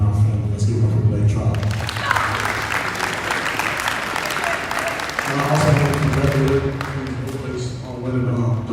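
Sustained applause and cheering from a school assembly crowd for team manager Blake Trotter at an early winter sports assembly, loud and continuous throughout with scattered voices mixed in.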